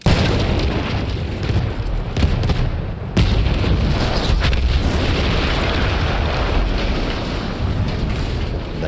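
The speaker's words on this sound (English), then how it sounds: "That explosion was one of the sweetest sights of the war for me." A massive explosion in the video game Battlefield 1 erupts into a dense, continuous roar of rumbling blasts and debris that stays loud for the full length, with a brief dip partway through.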